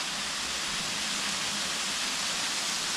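A steep tiered waterfall spilling over slides of broken rock on Phu Kradueng, a constant broadband roar of rushing water with no pauses or voices.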